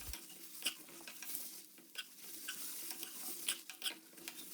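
Onions and dried Kashmiri chillies sauté in coconut oil for a tomato chutney, making a faint, soft sizzle punctuated by light stirring clicks and scrapes.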